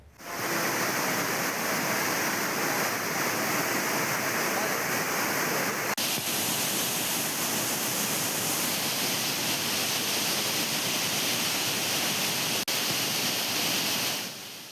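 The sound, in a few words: Courtallam main waterfall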